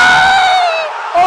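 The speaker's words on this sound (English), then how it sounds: "The crowd goes wild." A loud crowd roars and cheers continuously at a video game tournament, with a high-pitched whoop or shout riding over the dense noise.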